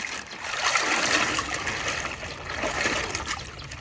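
Water poured into a plastic bag holding fish fry, a steady close trickle and splashing running for a few seconds at moderate volume, with no talking.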